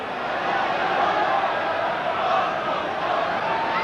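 A football crowd at Fratton Park, Portsmouth, roaring in a broad, steady wash of cheering noise during a match against Newcastle, with match commentary layered on top.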